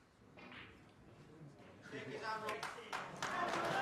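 Applause from a snooker crowd at the 2012 World Championship builds from scattered claps to fuller clapping, with a commentator's voice talking over it.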